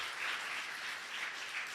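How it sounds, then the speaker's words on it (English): Faint, steady applause rises from an audience at the ASU Venture Devils Demo Day spring 2024 awards ceremony as grant winners are announced, a soft continuous patter of many hands with gentle swells. "Now you can applaud."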